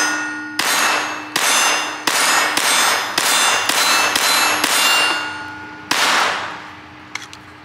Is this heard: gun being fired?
yes